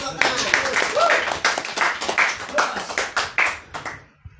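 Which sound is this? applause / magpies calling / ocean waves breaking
applause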